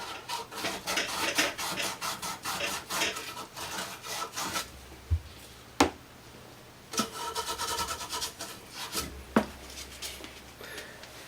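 Sandpaper rubs back and forth on the end of a sink supply pipe, cleaning it so the quarter-turn angle stop valve's O-ring seats. The strokes are rhythmic and close, come in bursts with short pauses and a few sharp knocks, and no one speaks.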